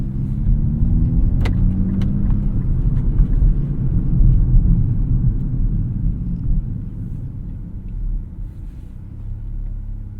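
A 2024 Nissan Z Nismo drives on the road, heard from inside as a loud steady low engine and road rumble that swells and eases slightly over ten seconds, with a couple of faint clicks early on and no talking.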